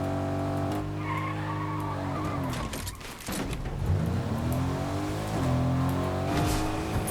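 In-game car in Fortnite driving, a steady engine drone with shifting revs and tire skids, loud and continuous throughout, with music-like tones over it and no talk.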